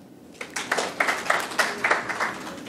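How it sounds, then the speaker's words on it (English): An audience at a stress-management talk for physicians and surgeons breaks into a short round of applause, the claps rising in bursts and fairly distant, with no talk. "Round of applause for us."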